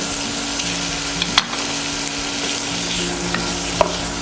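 Bacon fries in butter in a pan, a loud continuous sizzle with a few sharp scraping stirs, close up and with no talking.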